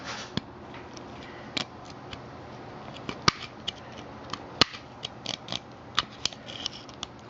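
Metal tabs are snipped off an H4 headlight adapter for a Honda ST1100 with tin snips: a series of sharp, close clicks and crunching cuts arrive at irregular intervals over a quiet background.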